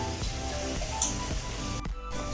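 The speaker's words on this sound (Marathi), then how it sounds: "ती आता आपण तेलावरती या मसाल्यावरती परतून घेऊया" Soaked dal sautéing in oil with spice masala, giving a constant, even sizzle and hiss close by, with a few soft stirring knocks and a short dip near the end.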